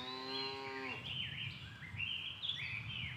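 A cow on a farm near Brest lets out a long, loud moo at close range, followed by birds chirping and twittering in the background with no talking.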